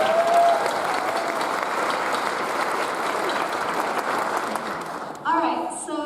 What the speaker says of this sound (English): Let's give her a second round of applause.